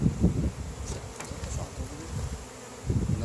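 Honey bees buzz around an open hive during a queen release, a dense steady insect drone filling the background while low thumps and handling noises come and go near the microphone.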